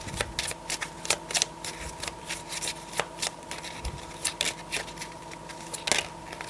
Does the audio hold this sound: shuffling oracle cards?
yes